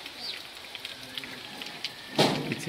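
Morning rain falling outdoors near rural fields, a soft steady patter with faint bird sounds and a brief louder splash near the end.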